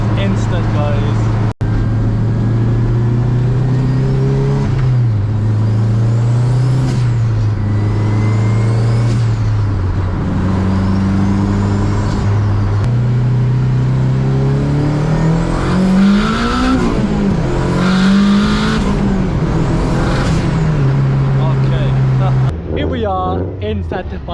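Turbocharged Honda K20-powered EK Civic coupe, around 450 bhp, accelerating hard through repeated gear changes, loud rising engine pitch with turbo whoosh and dips at each shift, heard from inside the car.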